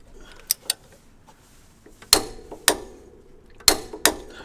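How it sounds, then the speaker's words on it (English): Crank pulley bolt being tightened on a Honda Integra DC2 engine with a pulley holding tool, giving a few sharp metallic clicks and clanks spaced about a second apart over a low background hum, close by and without talking. "got the crank pulley tightened up"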